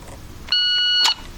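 A single sharp electronic shot-timer beep signals the start of a pistol drill, a loud steady tone of about half a second standing alone.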